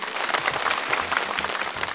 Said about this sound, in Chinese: 掌声送给你吧